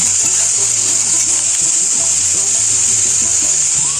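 Potato and eggplant go into a pan of frying bitter gourd, setting off a loud, constant close-up sizzle and hiss with a few faint knocks underneath.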